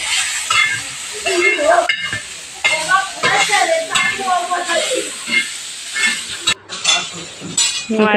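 Ridge gourd roasting in a pan for chutney, with a steady sizzle and occasional stirring and clinks of a utensil against the pan, while a person talks over it throughout.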